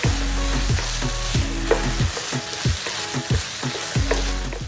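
A meat filling with ají panca, a Peruvian smoky chili, frying in a pan, a loud close sizzle broken by rhythmic repeated stirring strokes and scrapes.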